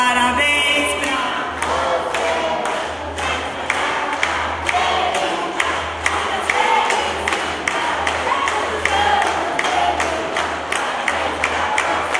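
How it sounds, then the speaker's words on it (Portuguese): Applause at a school festa junina, heard as a dense, loud, sustained crowd clapping with scattered cheers and voices throughout. "Uma salva de palmas."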